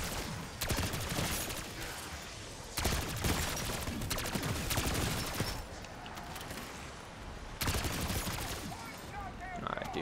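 Sustained automatic gunfire from a gun in Black Ops 6 Zombies, fired in long repeated bursts with brief pauses between them, loud and close, with someone talking over it.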